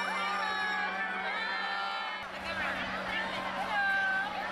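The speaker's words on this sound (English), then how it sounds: "Tons of students up on the balconies and clapping and cheering." Students packed onto school balconies clap and cheer as a bright, lively crowd of many young voices. A few individual shouts and whoops rise out of the steady babble.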